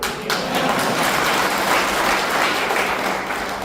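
Audience applause at a Shiv Sena office-bearers' rally in Chiplun fills the whole stretch, a dense, steady wash of clapping at close range with a few thuds and no talk over it.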